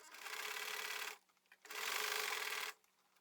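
A sewing machine runs a straight stitch through suit jacket fabric in two close, steady bursts of about a second each, separated by a short pause with light handling noise.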